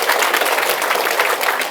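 Steady applause from an audience at a Buddhist lecture on the Avatamsaka Sutra, a dense continuous patter of hand clapping that holds even in level throughout without any voices over it.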